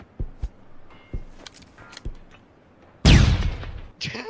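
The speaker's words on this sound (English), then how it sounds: "Yo, I'm gonna throw a stun grenade down." Stun grenade in the video game PUBG: soft scattered clicks and taps, then a sudden loud blast that trails off over about a second, followed by a brief higher ringing, with no talking.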